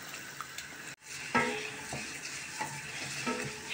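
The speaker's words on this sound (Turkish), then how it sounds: "Burada da bir miktar sıvı yağ ve tel şehriye ile kavuruyorum" Thin vermicelli roasting in oil in a pan for a bean-and-rice pilaf meal, a steady close sizzle with scraping stirring strokes and occasional clinks of utensil against the pan.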